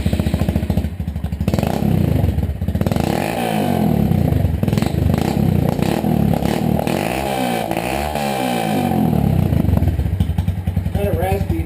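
A Honda Grom motorcycle engine running with no exhaust fitted, only the header pipe attached: loud, close, raspy idle with repeated revs rising and falling, heard alongside talking.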